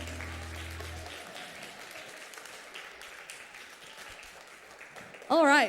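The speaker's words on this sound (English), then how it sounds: "Can you give them a round of applause?" Applause from a middle school chapel gathering fills the room, steady and fairly loud, with a low hum fading early on and a brief bright burst near the end.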